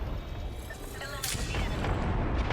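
A frag grenade in Apex Legends goes off as a sharp mid-clip burst, followed by sustained low booming and gunfire-like rumble, with voice chat running over it.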